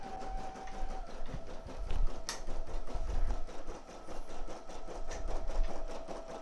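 A home embroidery machine stitches a design on a garment, its needle bar chattering in a fast, even mechanical rhythm with a motor whine underneath, running steadily and close at moderate volume.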